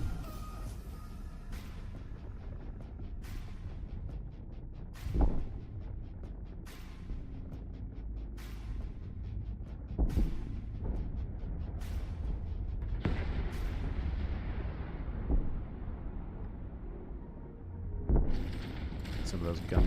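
Repeated gunfire in a survival video game, regular sharp cracks and booms spaced a couple of seconds apart over a steady rumbling background, moderately loud throughout.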